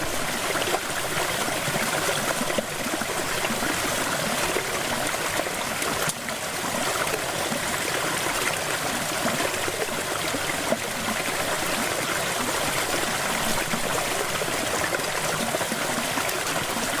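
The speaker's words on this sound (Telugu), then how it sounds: "వాటర్ ఫాల్ అయితే చిన్నది కానీ చాలా బాగుంది" A small forest waterfall stream at Maredumilli rushes and trickles in a steady, even wash of water. The sound is moderately close and continuous, with no talking.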